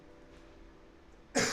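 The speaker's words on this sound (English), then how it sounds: "You're going to have to deal with all the coughing tonight." One abrupt, loud cough near the end after a stretch of quiet room tone, close to the microphone.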